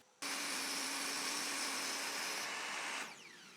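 A power tool cuts a wooden obelisk top down to size, a loud steady whine that starts abruptly, holds for about three seconds, then drops off and winds down.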